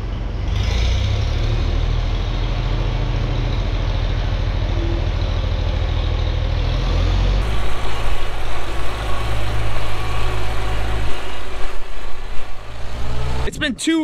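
A tractor engine idles in a loud, steady, low rumble close by for the whole stretch, with a brief rattle near the end.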